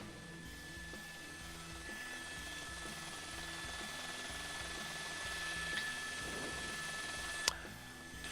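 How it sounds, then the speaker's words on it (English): Helicopter hovering overhead during a police chase with sheriff's deputies, a steady low rotor thump and engine whine holding throughout, fairly distant, with a brief sharp click near the end. "The helicopter still overhead"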